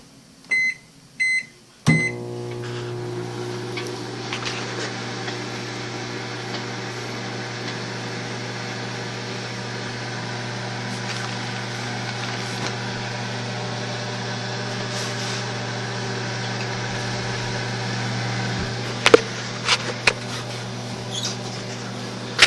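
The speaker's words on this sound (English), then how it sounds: "We're gonna put it in the microwave for about 90 seconds." A microwave oven runs with a cup turning inside, giving a steady low hum with a constant tonal drone that starts after a few brief beeps and continues for about twenty seconds, with faint clicks near the end.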